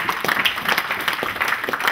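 A church congregation applauds during a French-language sermon, a steady patter of many hands clapping close by for two seconds.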